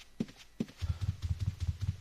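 Hooves clip-clop steadily as a horse moves in the 2D classic client of Ultima Online, the game's rhythmic hoofbeats following two short earlier knocks, clear and close with no talk.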